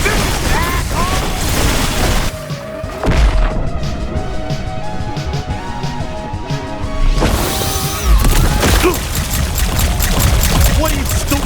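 Loud, dense gunfire and impacts from the video game High on Life, with crashing blasts and weapon noise throughout, easing briefly in the middle before another burst.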